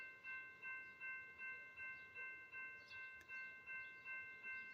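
A CSX freight train horn sounds in a long, steady, faint blast, with a soft rhythmic pulsing of the train passing underneath it.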